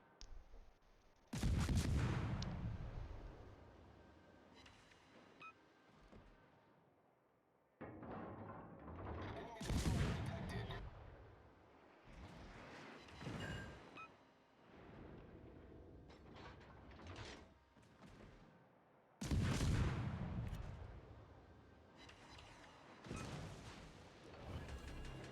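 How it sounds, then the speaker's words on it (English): Naval guns fire in World of Warships: three heavy salvos boom loudly at long intervals, each followed by a rolling rumble that decays, with quieter mechanical clanks and thuds in between. "All stations, concentrate fire on the target."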